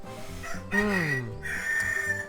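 A rooster crows in the background, a rising then falling call that lasts about a second and sits under near-continuous talk and game sounds.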